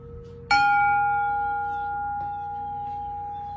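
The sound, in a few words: Zen bell tapped softly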